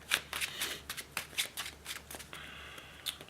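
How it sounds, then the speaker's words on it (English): A Yu-Gi-Oh card deck is riffle-shuffled up close, giving a series of quick crisp bursts of flicking cards followed by a longer buzzing riffle. "Shuffle the deck."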